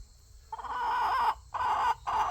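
A rooster clucking for a snack, giving three loud, close, drawn-out calls in quick succession with short gaps between them.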